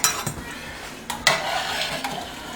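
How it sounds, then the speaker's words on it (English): A spoon stirs brown sugar into a rum wash in a metal pot, with a few sharp clinks and scrapes against the sides over a quiet hiss of heating liquid. "And I'm just going to stir it in."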